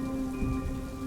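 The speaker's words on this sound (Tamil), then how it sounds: "இந்த மழை ரொம்பவே அடர்த்தியா இருக்கு" Heavy rain pours steadily in an animated story, a dense, even hiss of drops on surfaces with a low rumbling undertone running unbroken throughout.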